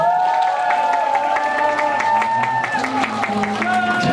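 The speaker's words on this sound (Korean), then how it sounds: "큰 박수를 맞이해주세요" An audience welcomes performers at a welfare center event, clapping in a steady rhythm along with loud, sustained music, the claps sharp and regular throughout.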